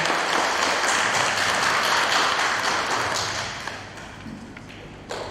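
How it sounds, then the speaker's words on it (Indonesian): A wedding audience applauds the bride and groom with a dense, lively burst of many hands clapping that holds steady for several seconds, then thins out near the end. "mari kita memberikan aplaus yang pertama kepada mereka dengan sangat meriah"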